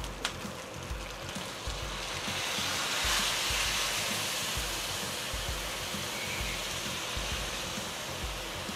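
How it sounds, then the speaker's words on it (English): Red wine poured into a hot braising pan for short ribs, giving a continuous broad hiss and sizzle that holds steady for several seconds, close and fairly loud, with no talk. "Pour the whole bottle in because I'm going to cook it down."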